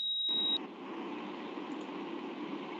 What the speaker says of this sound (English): So now alarm on is working, and if you press the alarm off,